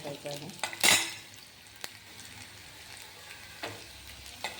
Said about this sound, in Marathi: इथे मोहरी आणि कांदा टाकलेला आहे. त्याला हा छान असा भाजून घ्यायचा आहे